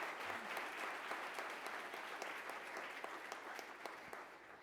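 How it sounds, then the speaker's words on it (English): Audience applause fills a school assembly, a steady, fairly faint wash of many hands clapping that continues evenly for several seconds without speech. "I hope we can give a little round of applause for the one missing today"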